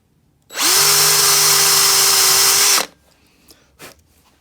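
Power drill boring a hole in a Myford Super 7 lathe control box, one loud, close burst of steady high whine lasting about two seconds, then quiet with a few small knocks.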